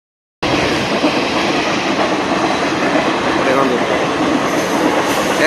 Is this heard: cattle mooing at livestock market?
no